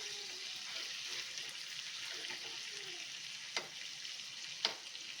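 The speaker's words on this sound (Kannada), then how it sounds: "ಈ ಕಡೆ ಆ ಕಡೆ ಈ ಕಡೆ ತಿರುಗಿಸಿ ಚೆನ್ನಾಗಿ ನಾವು ಫ್ರೈ ಮಾಡ್ಕೋಬೇಕು." Chicken coated in masala frying on a tawa over low flame, a faint steady sizzle with a few soft scrapes and taps as the pieces are turned.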